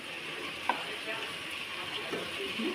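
Chicken curry broth bubbling in a pot, a steady close simmering hiss with small pops and a faint stir, continuous and soft throughout.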